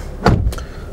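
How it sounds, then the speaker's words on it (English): A car door slammed shut from inside a parked car: one solid, close thud followed by a lighter knock as it settles, with no voices. "Close this door."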